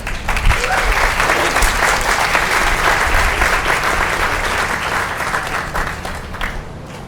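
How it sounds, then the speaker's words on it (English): Audience applause fills an outdoor tent at a harp festival, a dense, steady wash of many hands clapping throughout that tapers slightly toward the end. "thank you again for your applause"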